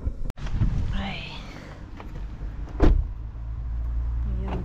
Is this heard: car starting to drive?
yes